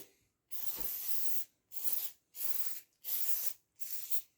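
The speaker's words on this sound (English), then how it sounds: "Woo! Spraying aerosol." Inox aerosol spray coating a lock during restoration, five separate short hissing bursts in a steady rhythm, close and fairly quiet, with silent gaps between them.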